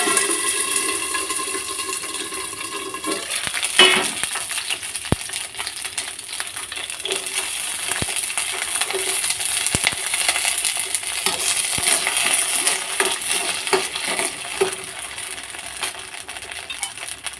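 Green chillies fry in about four spoons of oil in a kadai, a constant bright sizzling hiss with scattered pops and clicks, preceded by a brief higher tonal sound at the start.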